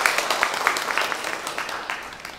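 An audience claps at a pop-up book event, a scattered burst of applause that tapers off over a couple of seconds.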